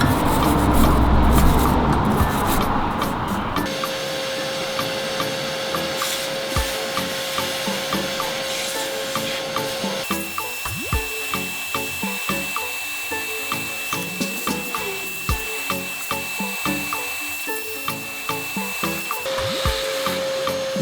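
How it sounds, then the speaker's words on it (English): Wire brush scraping dirt from an engine part in the bay of a 1999-2004 New Edge Mustang, with a steady run of short rhythmic scrubbing strokes under a constant background hum. "you can actually take a wire brush and scrape that all off."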